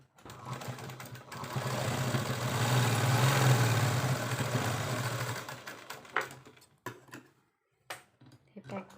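Sewing machine stitching a simple baby frock, a steady mechanical whirr that rises, runs for about three seconds, then stops, followed by a few short clicks and fabric handling.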